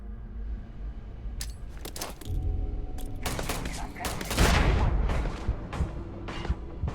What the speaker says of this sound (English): I think I just threw a grenade at myself.